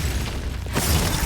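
A Glacius ice spell cast in Hogwarts Legacy: a sudden bright, shattering burst that swells after a rumbling lead-in, loud and close, holding as a hissing crackle to the end.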